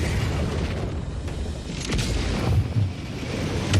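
Explosions from an orbital strafing run in the video game Helldivers 2, a dense rumbling barrage of booms close by, with heavier thumps near the end and a wind-like roar underneath.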